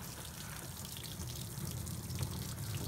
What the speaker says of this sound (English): And here's the water that it's expelling.